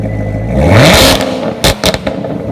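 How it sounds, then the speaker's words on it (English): A 2019 Chevrolet Corvette ZR1 engine revs up once, rising sharply in pitch to a loud whir and then dropping back, with a few clattering thumps afterward, close and alone. "This is what the new Corvette ZR1 sounds like when it revs up."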